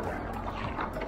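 Hobie Passport kayak gliding on open water under steady paddling, a continuous low wash of water and hull noise with soft splashes, close and moderately loud, no voices.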